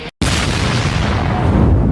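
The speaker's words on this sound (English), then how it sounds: "The explosion tore through the attic." An explosion in a narrated story: a loud, dense, sustained blast roar starting abruptly after a brief silence and rumbling on steadily without any voice.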